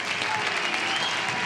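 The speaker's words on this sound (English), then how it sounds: "You really should stop applauding because you give me a big head" Studio audience applause for Johnny Carson's show in Burbank: a dense, steady wash of many hands clapping together, loud and sustained throughout without voices.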